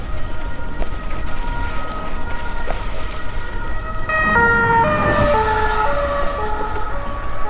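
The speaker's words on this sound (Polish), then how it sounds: "tam karetka, tu policja" An ambulance siren wails through passing traffic in Poland, its two-tone sweep growing loud as it draws near, then shifting pitch as it goes by.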